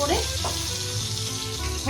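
Oil sizzles and crackles steadily as banana flower pieces in gram-flour batter with green chilli, salt and turmeric fry, a continuous hissing bed with faint low humming underneath.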